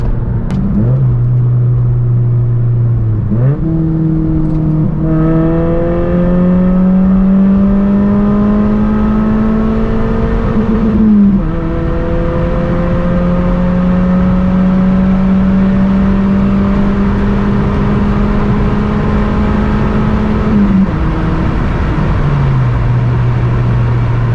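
A Mazda 3 drives fast along an open road, engine droning loud and steady inside the cabin, pitch climbing through gear changes with brief dips between shifts, steady road roar beneath, no talking.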